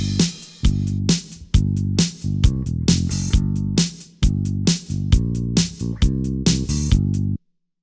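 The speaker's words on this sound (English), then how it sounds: "It sounds like this currently without the guitar. Pretty basic drums and bass" A basic drums-and-bass backing track with no guitar plays loudly with punchy, evenly spaced drum hits over a sustained bass line, then ends abruptly in silence.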